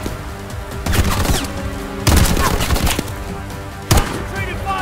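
Rapid bursts of gunfire in the shooter game Bright Memory Infinite, loud and near, with sharp spikes of heavier shots breaking through a steady clatter and game music underneath.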